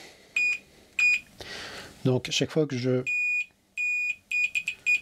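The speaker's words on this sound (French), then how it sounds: "j'ai un bip, à chaque fois que j'ai une continuité électrique" A multimeter in continuity mode beeps sharply as it is tested across the battery connection board of a Begode Master electric unicycle. Several short, loud beeps come in an uneven rhythm, with someone speaking French between them.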